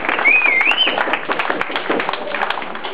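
Audience clapping at a small village event honoring Pepík after a vote, a dense patter of hands lasting throughout, with a brief whistle-like voice tone early on.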